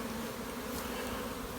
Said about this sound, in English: the bees are staying down there